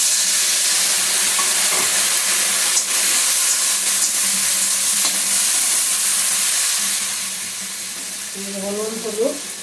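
Potatoes frying in a pan over medium heat, a steady broadband sizzle filling the whole stretch, with a few light clicks of stirring and a softer, fading patch of sizzle near the end.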